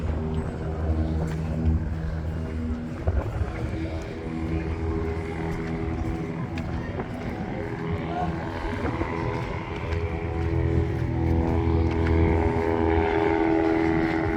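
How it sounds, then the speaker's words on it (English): A propeller plane towing an advertising banner drones steadily overhead along the seaside promenade in Constanța, Romania, a continuous hum with street ambience and no talk. "Croco biscuits that the plane is flying with a banner."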